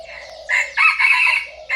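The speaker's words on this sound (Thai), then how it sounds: "ไก่ข้าวใหม่เยอะนะครับนี่ตัวที่หนึ่งนะครับ" A yellow rooster about a year old crows loudly and close by in Lom Kao, Phetchabun, Thailand, a long bright call broken into bursts, with no talking.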